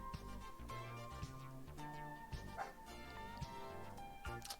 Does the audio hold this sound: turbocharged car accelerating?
no